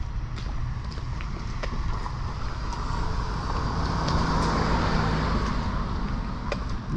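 A car passes close by on a city boulevard in Montreal where the road is partly blocked, its engine and tyre rumble steady beneath outdoor street ambience and light wind.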